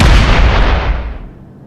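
Warheads detonate in Space Engineers as a single loud, close, booming blast that rumbles and fades out over about a second and a half, with no voices.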